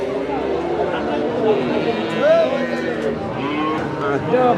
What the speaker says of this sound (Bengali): দেখুন চমৎকার একটি বাছুর আমরা